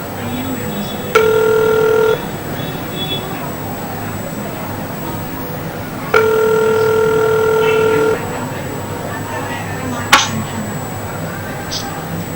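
A telephone rings twice in long electronic tones several seconds apart, with a click afterward and a faint background hum.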